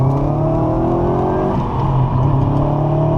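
A 2006 Subaru WRX Hawkeye accelerates hard on a public road, its engine note climbing steadily and loud from the cabin, with a continuous droning roar and no voices over it.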